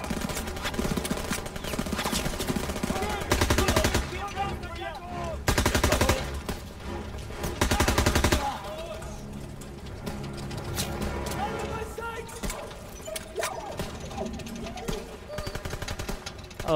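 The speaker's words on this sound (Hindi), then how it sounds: "अब इनकी ही गन लेके इनको मारना पड़ेगा गाइस" Gunfire from the Call of Duty WWII video game comes in several loud bursts of rapid automatic fire, separated by quieter stretches of game sound and speech.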